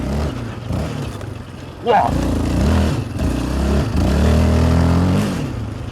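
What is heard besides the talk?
Yamaha 700 Raptor quad engine revving with Marving exhaust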